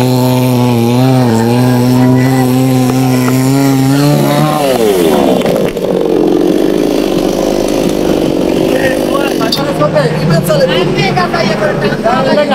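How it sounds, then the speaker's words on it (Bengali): A chainsaw cuts down a big tree, its engine holding a high whining tone before dropping and bogging into the wood, with a loud, rough, sustained cutting roar close by. "এই মেশিন দিয়া মাত্র 15 মিনিটের মধ্যে এই গাছটাকে শোয়াই ফেলাইতেছে।"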